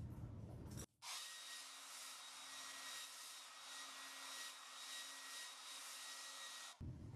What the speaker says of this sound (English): So we'll blow dry it real quick.